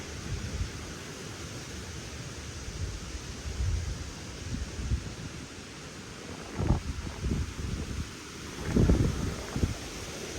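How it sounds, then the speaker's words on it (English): Gusty wind roars against the microphone, with low rumbling bursts that swell and fade, suggesting strong wind moving through nearby trees. "It's very windy today. You can hear from the trees."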